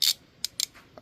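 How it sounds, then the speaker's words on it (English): A ratchet wrench with a long extension working on a 3.7L V6 water pump of a Jeep Liberty, Dodge Durango or Ram 1500, giving a few close, sharp clicks and one brief louder rasp. "ratchet wrench"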